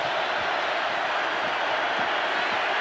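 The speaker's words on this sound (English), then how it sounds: "Crowd in full throat right now." A packed football stadium crowd roars steadily at an NFL game between the Los Angeles Chargers and the Las Vegas Raiders, a loud unbroken wash of cheering and noise with no clear breaks.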